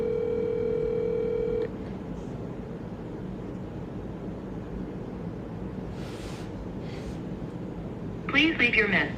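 A telephone line tone sounds during a call as a steady held note for under two seconds before cutting off abruptly. Low line hiss follows, with a brief muffled noise near the end.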